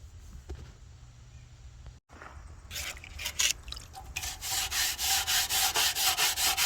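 Paint stripper is scrubbed off a part of a 1987 Freightliner FL86 truck: a quiet start gives way to rhythmic, close brushing strokes that grow louder and steadier toward the end.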